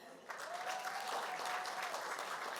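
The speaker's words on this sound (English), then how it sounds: "Let's please give these individuals another round of applause" A crowd claps steadily and loudly, sustained applause filling the room with a faint tone running underneath.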